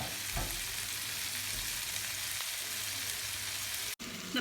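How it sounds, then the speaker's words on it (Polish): Steady, dense sizzling of soy meat and vegetables frying in a pan, continuous and close, with a brief dropout near the end. "wrzucam nasze mięsko sojowe na patelnię i tylko delikatnie mieszam, żeby się nie rozwaliło i przysmażam"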